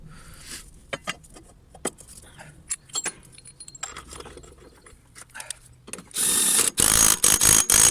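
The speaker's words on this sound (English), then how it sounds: "If you want to torque wrench it, I don't. I just use an impact driver." An impact driver fastens the blade on a Hyundai HYM480SPR lawn mower, entering near the end as a loud, sustained burst of hammering rattle after quieter clinks and handling noises.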